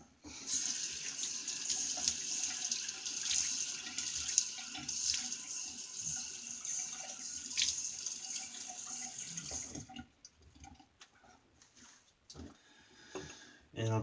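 Tap water runs steadily from a faucet into a sink for about ten seconds while a man wets his face before a shave with a vintage Williams double-edge razor, then the flow stops and only faint handling noises remain.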